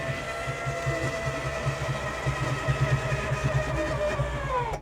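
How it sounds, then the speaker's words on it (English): A steady electric RV slide-out motor hum drones for several seconds as the slide-out extends, then winds down and stops abruptly at the end. "Now, there is a slide out. You got the switch right here."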